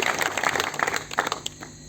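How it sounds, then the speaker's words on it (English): An audience claps in a brief burst of applause, a dense patter of hands that is close and moderately loud and fades slightly toward the end. "he deserves a big round of applause"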